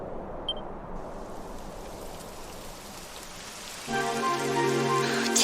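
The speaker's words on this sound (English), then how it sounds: "It would have to go and start raining, wouldn't it?" Steady rain hisses across the whole stretch in the video game Dragon Quest XI, joined near the end by a swelling sustained musical tone.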